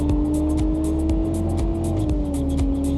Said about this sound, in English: This provides a direct acceleration feel that follows the increase in engine RPM, as well as a rhythmical shift feeling.